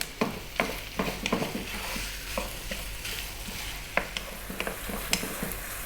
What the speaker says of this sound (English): we're gonna go for about 5 minutes here, throwing this around in the pan. I'll be stirring it fairly often.